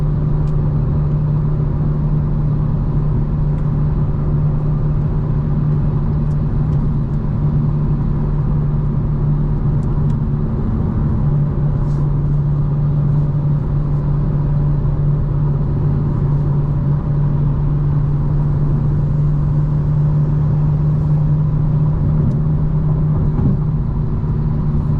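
A 2025 BMW M4 Competition cruising at night, heard from inside as a steady low engine drone and road rumble that holds evenly throughout, with no talking.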